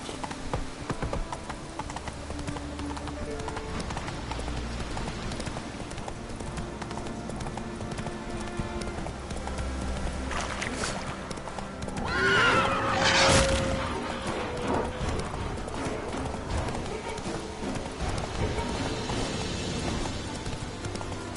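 Roach the horse trotting in The Witcher 3, a steady rhythmic clip-clop of hooves under game ambience and music, with a louder burst of clatter partway through.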